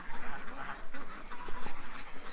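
Ducks give a few short, close quacks over an uneven outdoor background, with no clear talk.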